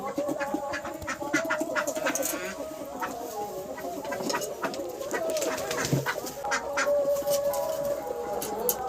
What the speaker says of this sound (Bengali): এই যে দেশি মুরগি, এটা রং পুরো সাদা, একদম সাদা মুরগি